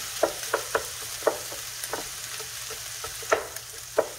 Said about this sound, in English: We want to continuously hear that sizzle sound. That means your frying pan is nicely hot.